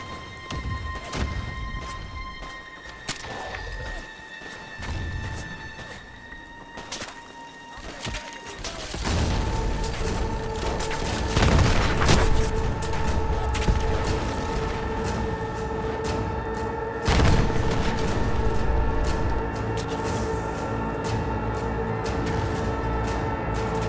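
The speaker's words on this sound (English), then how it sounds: "Explosions and gunshots." Sustained battle noise in the video game Fallout 4, with scattered gunshots and booming explosions over a droning background, growing louder and denser partway through.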